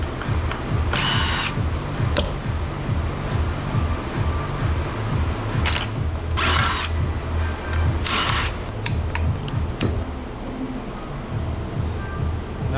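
A power drill runs nearly nonstop in a workshop while aluminum scrap is being broken down, a steady loud whirring with a few short bright bursts as the bit bites, no talking over it.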